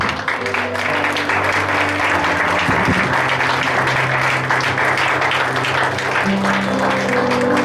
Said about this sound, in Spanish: Y le damos un aplauso al Señor.